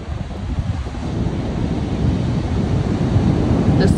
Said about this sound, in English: Listen to the power of those waves.